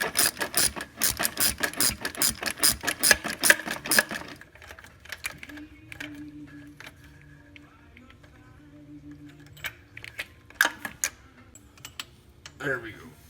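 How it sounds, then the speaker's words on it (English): A 3/8 inch drive ratchet, fitted with two extensions and a universal joint, clicks rapidly while loosening a 10mm bolt on a 12 valve Cummins during fuel line work. A burst of close, fast clicks runs for about four seconds, then sparse clicks and clanks follow under a faint hum. "3/8 inch drive ratchet, 2 extensions, and then I'm using a universal joint, and then the size of that bolt is a 10mm"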